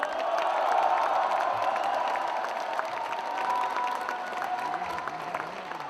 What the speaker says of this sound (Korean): 두 후보님께 뜨거운 박수 보내주시기 바랍니다